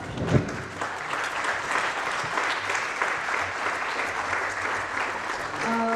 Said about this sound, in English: kindly let's all rise and give him a huge round of applause